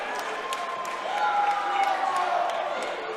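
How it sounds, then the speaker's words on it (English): A crowd at a Proving Grounds MMA event cheers and applauds right after a unanimous decision, a steady wash of distant noise that swells slightly partway through. "And the crowd went crazy for that"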